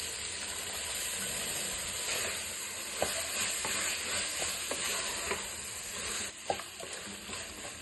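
Tomatoes, turmeric and peas sizzle steadily in a pan for tomato bath while a spoon stirs them, sending a few sharp scrapes and knocks up through the continuous frying hiss.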